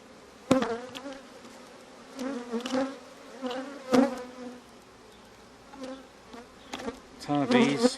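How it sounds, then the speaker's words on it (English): Honey bees buzz around an open wooden hive box during a frame inspection, a close, fluctuating drone with individual bees swelling past the microphone; a voice is faintly present. "Ton of bees, lots of bees."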